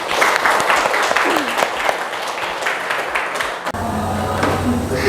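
Students in a classroom clap for a classmate's answer, a loud burst of many hands that cuts off abruptly, followed by quieter room noise with a voice.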